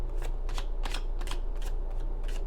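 Tarot cards being shuffled by hand, a quick run of crisp riffling bursts repeating in a steady rhythm, close and clear with no talking.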